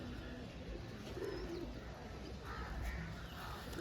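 Pigeons coo steadily in a bird market stall, soft repeated low calls layered over a busy background with a few other bird calls.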